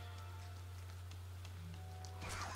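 Steady rain falls in the video game Rain, a constant even hiss of drops on surfaces with a low ambient hum beneath and a brief louder swell near the end.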